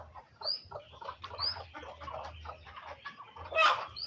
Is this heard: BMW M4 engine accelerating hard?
no